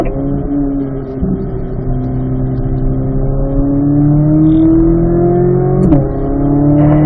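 A car engine drones loudly in fourth gear down a track straight, its pitch rising steadily as it accelerates, with a brief sharp click near the end and no talking.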